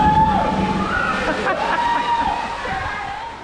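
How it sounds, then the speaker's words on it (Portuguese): A waterfall at the Hot Park water park in Caldas Novas rushes and sloshes steadily beneath someone talking, with splashing water and crowd murmur around it. "Aqui, galera, tem uma cachoeira aqui, ó."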